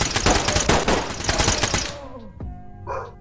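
Rapid automatic gunfire bursts in the tactical shooter Ready or Not, loud and close for about two seconds, then cutting off into a brief ringing tail.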